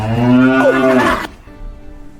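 A bull gives a loud, close, drawn-out moo lasting about a second, deep and wavering with a rising grunt in the middle, then cuts off into a quieter background.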